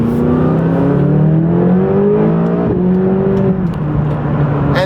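McLaren 570S sports car accelerating hard, its engine note climbing steadily through the revs with a gear change near the end, loud and close with no talking.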